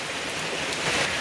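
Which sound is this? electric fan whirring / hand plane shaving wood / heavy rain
heavy rain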